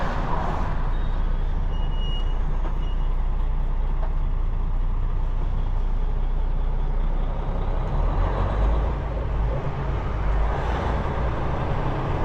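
Inside the cab of a National Carriers truck as it brakes, a steady, loud engine and road rumble holds throughout, with a brief surge of noise near the end.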